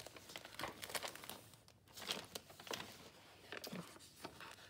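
Paper packaging is ripped open by hand to free a roll of washi tape, giving several sharp tearing and crinkling bursts with short pauses between them, close and fairly quiet.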